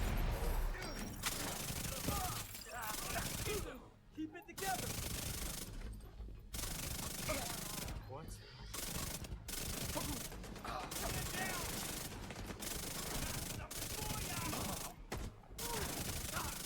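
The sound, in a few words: Chatterbox SMG gunfire in The Division 2 video game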